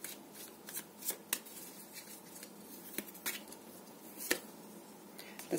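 Tarot cards are shuffled by hand in soft, quick riffles and taps, a quiet close pattering with occasional sharper snaps, and no voices.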